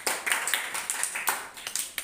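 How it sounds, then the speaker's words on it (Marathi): Children in a summer vacation classroom clap together in a quick burst of uneven, overlapping hand claps, fairly close and steady for about two seconds with no talking. "टाळ्या वाजवा रे."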